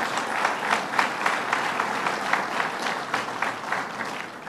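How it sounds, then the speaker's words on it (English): An audience applauds elected and union officials at a public announcement of a highway interchange project, sustained clapping from a sizable crowd, moderately distant and even, tapering slightly at the end. "Give them a round of applause."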